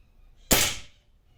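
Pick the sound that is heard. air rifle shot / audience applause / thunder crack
air rifle shot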